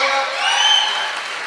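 A room of students clapping in unison at a school gathering, sustained applause with some light cheering mixed in, swelling briefly in the middle before easing off slightly.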